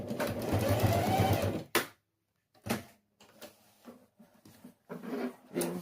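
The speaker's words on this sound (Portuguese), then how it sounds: "Vamos costurar aqui primeiro, para que a alça não saia do lugar." Sewing machine stitching the strap onto a fabric pencil case, a steady whirring run of stitches up close, then stopping, followed by a few short bursts and quiet handling clicks.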